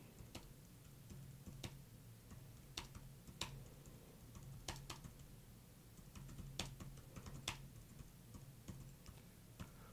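Soft, irregular clicks of keys on a computer keyboard as a social media post is typed, faint and close, with scattered sharper taps over a low room hum.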